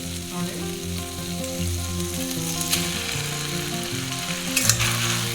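Noodle masala with chili powder and salt sizzles in a pan over medium heat. A loud, continuous frying hiss is stirred now and then over a droning tonal background.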